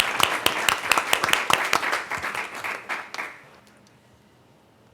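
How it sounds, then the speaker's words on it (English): A small meeting gathering applauds a house owner for opening transitional housing, with brisk, fairly close claps that build for about three seconds and then fade away into near silence. "we should give him a round of applause"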